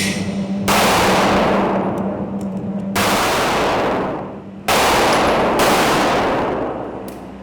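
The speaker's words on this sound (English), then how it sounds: "3 shots to the target, center mass." Gunfire at a firearms training range in South Africa: three loud, close bursts of rapid shots, each ringing out and decaying before the next, with no talk.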